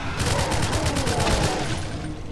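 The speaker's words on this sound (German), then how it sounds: "Das heißt, wir machen erstmal hier schön mit Schalldämpfer." Silenced gunfire in the GZDoom game Call of Doom: a rapid burst of suppressed shots fires in a tight, even rhythm for over a second, then trails off into a fading tail.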